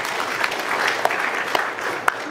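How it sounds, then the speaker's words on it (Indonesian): An audience claps steadily at the installation ceremony of the Golkar party's regional board in Teluk Wondama, honouring the deputy regent. The dense, even applause fills the hall with a few sharper claps standing out, and no one speaks over it. "Mari kita tepuk tangan untuk beliau."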